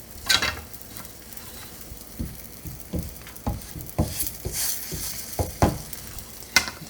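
Roti skins fry in hot oil with a crackling sizzle, and sharp spattering pops and stirring scrapes recur irregularly over the steady frying hiss.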